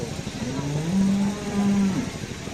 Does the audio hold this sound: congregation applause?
no